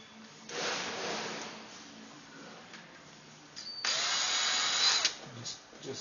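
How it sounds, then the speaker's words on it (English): Two bursts of a power drill whirring while marking three holes for a motor mount, one short and one longer, with quieter handling noises and clicks in between. "Grab your drill."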